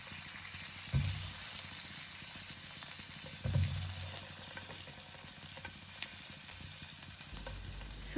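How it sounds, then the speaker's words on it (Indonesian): Sausages sauté in melted butter in a pan for an Indonesian sausage and vegetable stir-fry, giving a steady close sizzle with a few louder stirring scrapes and bumps, no one talking. "Pertama-tama kita lelehkan dulu mentega, lalu kita tumis sosisnya."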